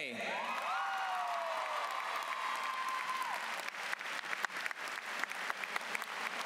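A high school graduation crowd breaks into applause, building from a faint start into scattered then steadily denser clapping with a few whoops, after a brief tonal sound at the opening.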